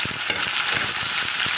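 Ingredients hit hot oil for a cucumber and prawn kuzhambu, giving a loud, even sizzle with soft stirring scrapes in a short burst.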